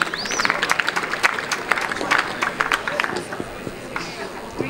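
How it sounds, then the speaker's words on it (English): Crowd applause with scattered cheers at a CBC under-17 water polo match for the Accorsi Cup, honouring the parents who helped set up; the clapping rises briefly, then thins out, with voices mixed in. "Please give them a round of applause."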